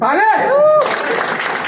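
Audience applause breaks out at a Hindi business team achievement event, a broad wash of clapping rising right after a speaking voice and filling the rest of the moment.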